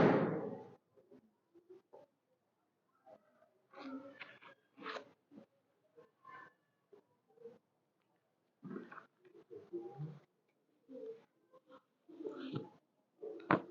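Pigeons at a loft in Kangra Colony, Haripur Hazara, giving soft, intermittent coos in short bursts against a quiet background, with occasional low speech.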